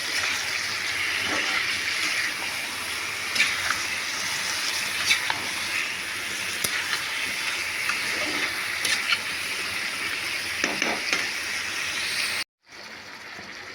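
Chicken pieces frying and being stirred in a pan for Bengali chicken kosha, a steady sizzle with occasional scraping stirs, close and continuous before an abrupt cut.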